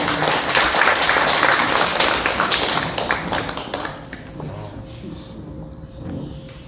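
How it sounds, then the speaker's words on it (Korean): A large audience at a Korean forum breaks into dense, loud applause to welcome a film director to the stage. The clapping holds steady for nearly four seconds, then thins out quickly into a quieter room. "큰 박수로 맞이해 주시기 바랍니다."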